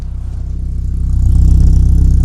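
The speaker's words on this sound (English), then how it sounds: "listen to this exhaust note" A 1992 VW MK1 Cabriolet idles with a steady low throbbing exhaust note, loud and close, the engine rising slightly in level partway through with no talking.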